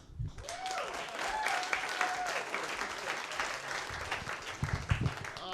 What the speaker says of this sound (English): Give a big round of applause for Mr. Howard Hunt.